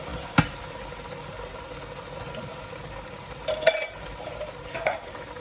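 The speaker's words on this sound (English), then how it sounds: "I'm going to get a wooden spoon for this. I'm going to mix all this in." A wooden spoon stirs coconut milk curry in a pan over a low steady sizzle, with a few soft knocks and scrapes against the pot.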